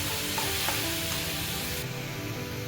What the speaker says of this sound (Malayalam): ഇനി ഇതിലേക്ക് നമ്മൾ മാറ്റി വെച്ചിരിക്കുന്ന ചിക്കൻ ഇട്ട് കൊടുക്കാം.